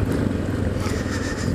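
A Honda XRE 300 ABS motorcycle engine with a double overhead cam runs steadily, a close, continuous low rumble with a smooth, even pulse and no talking.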